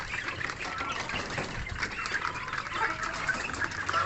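Many chicks peep and chirp continuously, with chickens clucking in a busy flock, moderately distant.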